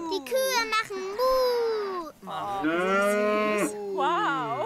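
Long, drawn-out moos, one after another, rising and falling, heard close and loud with only brief pauses between them.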